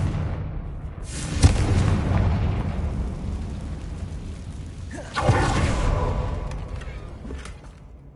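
Two heavy booming blasts from a Confringo fire spell in the Hogwarts Legacy video game, the first near 1.4 s and the second near 5.2 s. Each one rolls out into a long rumbling tail over a low ambient bed.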